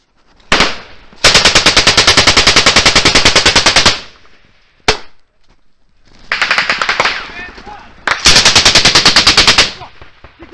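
Heavy automatic gunfire during a Taliban ambush in Afghanistan, loud sustained bursts of rapid shots separated by short gaps and single cracks, close and harsh.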